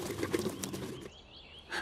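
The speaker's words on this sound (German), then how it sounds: "Der kleine Vogel trainiert heftig seine Flügel," A young jackdaw beats its wings hard in a rapid flurry of close, soft flapping, then a brief pause with faint high chirps before another burst of wingbeats.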